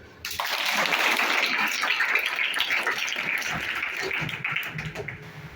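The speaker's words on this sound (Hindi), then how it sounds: "ताली बजा दो भाई" An audience claps at a school 15 August Independence Day gathering as a girl student is called up to recite a poem; dense, steady clapping fills about five seconds, thinning slightly near the end.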